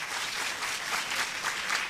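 Sustained applause fills the room as a lecture audience claps in a dense, even patter, close and fairly loud, with no talking on top.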